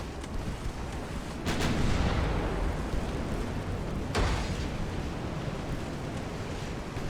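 Warship guns booming in a naval battle in Ultimate Admiral Dreadnoughts, a couple of heavy blasts over a constant roaring wash of sea and wind noise.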